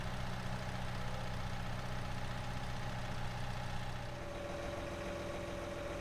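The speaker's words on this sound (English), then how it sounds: "So here we have the Steiger series tractor by Stenkamp Modding" Case IH Steiger series tractor engine idling in Farming Simulator 19, a steady low rumble with a constant mid-range drone that holds evenly throughout, slightly softer and lower toward the end, with no talk.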